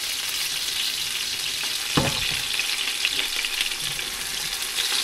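Tomatoes fry in a hot pan for pork binagoongan, giving a loud, steady sizzle and spatter throughout, with one stirring knock near the middle.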